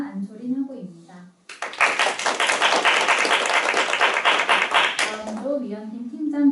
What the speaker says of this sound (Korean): 다들 박수로 함께 맞아주시기 바랍니다.